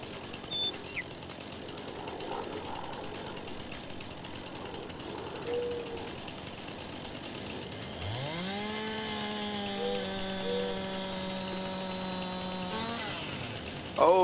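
A chainsaw cutting a tree in the Farming Simulator 19 logging game: faint mechanical clatter at first, then the saw revs up and holds a loud, steady buzzing whine for several seconds before cutting off.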